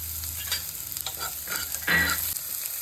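Onions with mustard seeds, cumin and curry leaves sizzle steadily in a hot pan while a spatula scrapes and stirs them in several close, uneven strokes.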